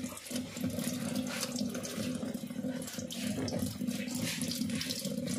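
Water pours steadily out of an LG automatic washing machine, a continuous close rushing flow with slight surges and no voices.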